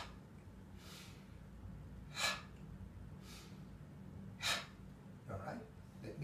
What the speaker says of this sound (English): Inhale by nose. Exhale out by mouth.